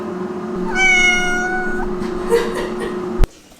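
A cat gives one long, drawn-out meow up close in a kitchen while an air fryer hums steadily underneath, ending with a sharp click.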